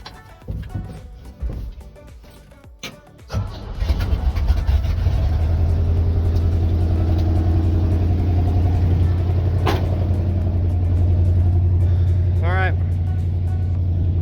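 An engine cranks over and catches after a few seconds, then settles into a steady, loud, low idle as it warms up in a garage, with a brief squeal and a rising whine near the end.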